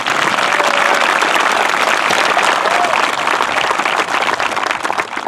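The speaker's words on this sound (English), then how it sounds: "Let's give Desiree another round of applause." Loud, dense applause from a large graduation crowd, a steady wash of clapping that fills the whole stretch without letup, with faint cheers mixed in.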